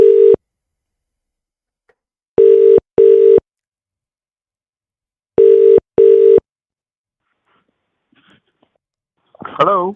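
A telephone line tone sounds after a dropped call, in five short evenly pitched beeps in two groups, loud and clean against silence, followed by a brief faint noise at the end.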